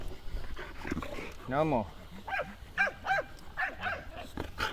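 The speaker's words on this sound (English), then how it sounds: "Good dogs." Dogs whimper and make short vocal sounds close by, mixed with a person talking over them in a home setting.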